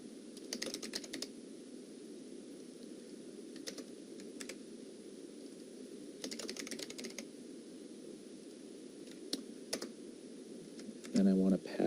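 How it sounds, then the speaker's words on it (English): Fingers tap out bursts of keystrokes on a computer keyboard, clustered clicks separated by pauses, close and fairly quiet over a low steady hum, with a brief louder thump at the end. "saves us a little bit of typing here"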